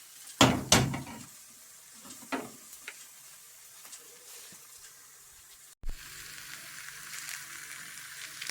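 Blini pancakes frying in a pan, a faint, steady sizzle with a few sharp clinks of a utensil early on and a brief knock partway through.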